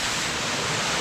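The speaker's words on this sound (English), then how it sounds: "There's the waterfall." A waterfall along a rocky hiking trail, a dense, steady rushing roar that stays even and loud throughout, with no voices over it.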